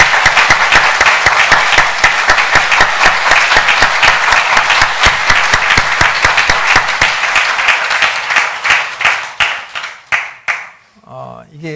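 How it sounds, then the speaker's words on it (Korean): Church congregation applauding a visiting pastor during a Sunday worship service, loud sustained clapping from many people with distinct sharp claps, thinning out and fading near the end. "우리 박수 한번 하십시다."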